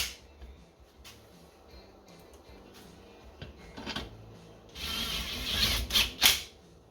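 Ratchet wrench snugging down bolts on a Briggs and Stratton flathead engine on a tiller, quiet at first, then a few louder bursts of clicking near the end, with no talk.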